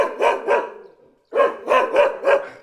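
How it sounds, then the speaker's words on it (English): A dog barks in repeated sharp bursts, two quick barks, a short pause, then three more, close and loud, excited and eager to play, with no talking. "So my dog really wants to play right now."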